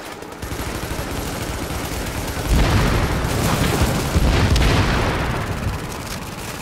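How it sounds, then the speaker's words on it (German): A loud, sustained explosion in the shooter game Tom Clancy's The Division, a deep booming blast swelling midway and rumbling on with crackling, gunfire-like bursts, close and dense, with no voices over it. "Da explodiert's gleich."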